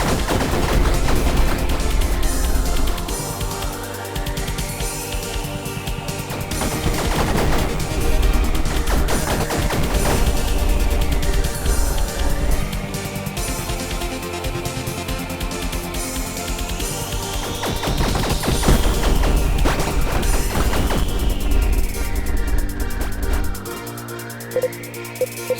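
Spaceship weapons fire in rapid, loud bursts in the space shooter game Fission Superstar X, crackling volleys repeating over swooping synth tones and a droning electronic backdrop.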